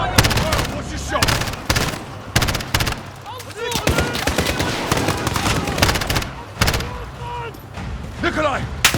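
Rapid gunfire crackles in the Modern Warfare video game during a combat mission. Dense bursts of automatic shots come close and loud, with shouted voices mixed in throughout.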